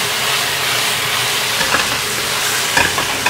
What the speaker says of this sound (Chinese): 我们煮姜葱鸡啊